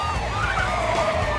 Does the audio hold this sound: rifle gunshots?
no